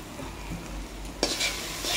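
Soy sauce and tomato sauce are being stirred into a pan for egg chowmein: a close sizzle with a sharp spatula scrape partway through and a louder scraping burst near the end.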